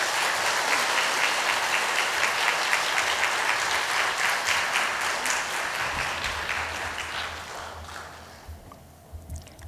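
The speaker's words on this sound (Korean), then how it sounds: "우리 선교사님 나오실 때 큰 박수로 환영하도록 하겠습니다" A church congregation at a Wednesday worship service applauding to welcome a missionary to the front, dense sustained clapping from many hands that gradually thins and fades toward the end.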